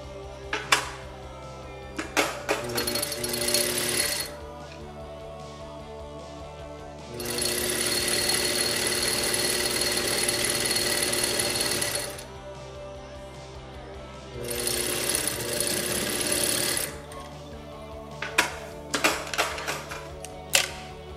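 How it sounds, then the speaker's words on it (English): A sewing machine stitches cotton dad-hat front panels together in bursts, with a rapid mechanical whir running for several seconds at a time between pauses, and faint handling clicks between runs, close and fairly loud. "now we're going to sew the other side on to the other front panel"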